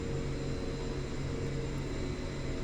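CRJ-200 airliner taxiing on the ground in a flight simulator game, a constant loud engine roar and whine with a steady low hum and no changes.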